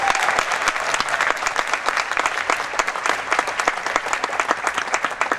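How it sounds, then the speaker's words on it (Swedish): Warm audience applause at a Scandinavian percussion festival event, dense and steady clapping filling the hall for several seconds with no talk over it. "Ge honom en varm applåd."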